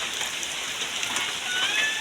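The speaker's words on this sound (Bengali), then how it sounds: "আমাদের বাগেরহাট জেলায় তো প্রচণ্ড বৃষ্টি হচ্ছে" Steady downpour in Bagerhat district, Bangladesh, a thick unbroken wash of raindrops hitting nearby surfaces at even loudness throughout, with no voices present.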